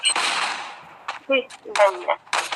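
Sharp bursts of video game gunfire crack out in quick separate volleys, with a heavier launching blast near the start, loud and close.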